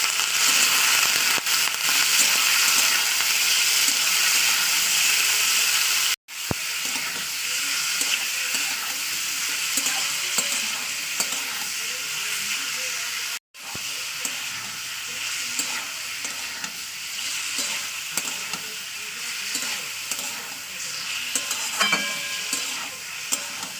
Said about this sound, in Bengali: এবার আমি দিয়ে দেবো মাংস টুকুটাকে